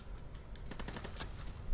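Gunfire crackles through a chaotic Call of Duty WW2 multiplayer match, a rapid run of sharp shotgun-style blasts over a steady roar of game noise, fairly loud throughout.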